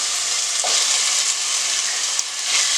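Two tomatoes frying in a hot pan for a mutton kola urundai curry, a loud, steady, dense sizzle with a faint stir and one small clack.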